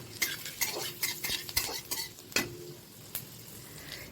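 Butter and chopped garlic cook in a pan for an egg sandwich while a utensil stirs and scrapes in quick irregular taps over a faint sizzle.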